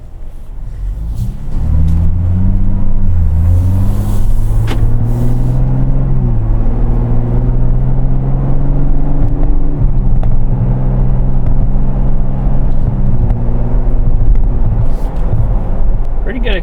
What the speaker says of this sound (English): Pretty good acceleration.